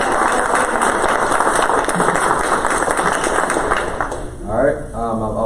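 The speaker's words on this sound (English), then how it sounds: "If we can have a round of applause for Miss Alina Grubb" A room of people at a school board meeting applauding an honored female athlete of the year; dense clapping fills most of the stretch, then fades out as a voice begins speaking near the end.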